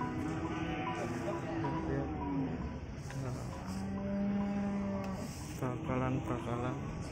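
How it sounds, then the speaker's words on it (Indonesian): Young beef cattle at a busy livestock market, with moos and lowing rising over steady crowd chatter and background noise, several calls spread through the scene. "15 ekor bakalan sapi."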